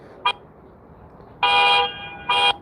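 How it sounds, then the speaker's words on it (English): A car alarm set off by the panic button, sounding as three horn honks: one short chirp, then two longer blasts, fairly loud against a quiet background. "they hit the alarm"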